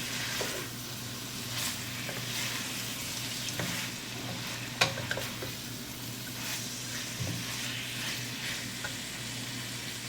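Tofu stirred into a pot of beef rice noodle soup, with a steady sizzling, bubbling wash and scattered clinks and scrapes of the utensil throughout, close and moderately loud with no talk.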